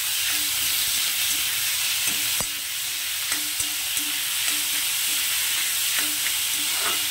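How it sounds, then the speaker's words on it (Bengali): Chopped onion and capsicum fry in a pan for egg bhurji, a steady close sizzle with occasional stirring clicks and scrapes throughout. "ক্যাপসিকাম আর পেঁয়াজটাকে আমি একটু ভেজে নেব।"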